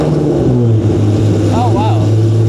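An NSX with a Varex aftermarket exhaust idles with a deep, bassy exhaust drone, briefly blipping the throttle, with a voice speaking over it.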